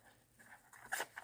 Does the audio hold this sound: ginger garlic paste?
no